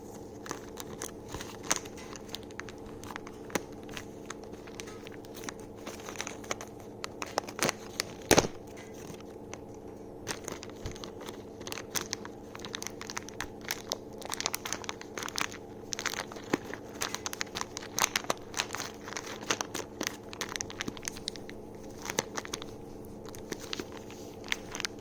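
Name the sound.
opening plastic packaging of RC car parts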